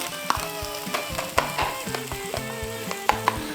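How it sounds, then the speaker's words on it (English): Onions and peppers sizzle in olive oil on a Blackstone griddle, a steady close frying hiss broken by occasional sharp pops and spatula scrapes. "olive oil on this side. And we're gonna add our onions and our peppers."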